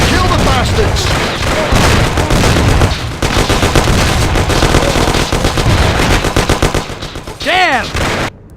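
Rapid close gunfire from pistols and machine guns in a Mafia video game shootout, loud continuous bursts with shouting voices mixed in and a ricochet-like whine near the end.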